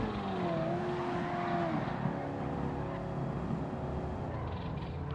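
A 1200hp twin turbo LS7 engine swapped into an old Nissan in Gran Turismo 7, a steady loud engine drone with rising and falling pitch under throttle, close and continuous without talking.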